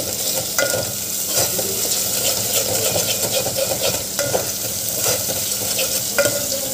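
Onion and coconut paste sautéing in a pan with white beans curry cooking, a steady loud sizzle throughout broken by repeated scraping stirs of a spatula.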